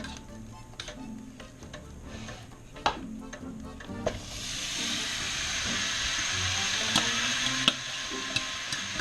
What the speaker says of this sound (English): this is going to get stirred up a little bit and all go back into the pan